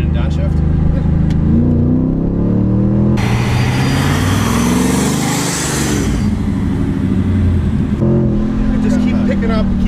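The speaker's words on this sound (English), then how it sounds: "the higher you get in the RPM range, the more boost you're making" Supercharged 2009 Jeep SRT8, fully built with a Procharger at around 700 wheel horsepower, revs loudly and continuously as it downshifts and accelerates hard, close up with steady engine roar rising through the range; someone talks over it.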